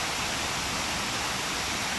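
A tall waterfall in the countryside near Medellin, Colombia roars as a dense, steady broadband rush, loud and unbroken throughout with no voices.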